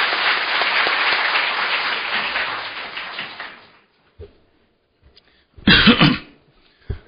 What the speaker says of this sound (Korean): 토의 발표해 주신 김인재 교수님께 큰 박수로 맞이해 주시기 바랍니다.